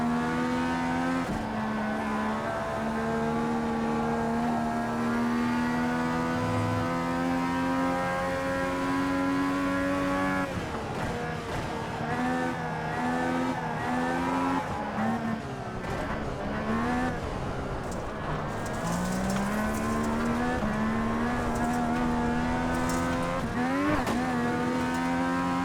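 FIA Cross Car race cars on a dirt track, their high-revving engines droning in steady harmonic tones that rise and fall with each gear change and throttle lift, several cars close together, loud and continuous throughout.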